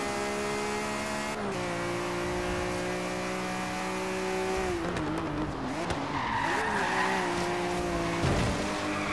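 A BMW in the racing game Forza Horizon 3 skids with squealing tyres and a loud, shifting engine drone that rises and falls over about nine seconds, with no one talking over it.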